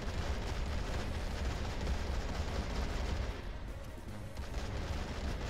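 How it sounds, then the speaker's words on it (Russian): Gunfire and artillery from the World War II strategy game Men of War 2: Arena during a tanks-versus-aircraft battle, a dense continuous rumble of shots and blasts at steady loudness with no talk. "Ну там что-то по мне стреляет."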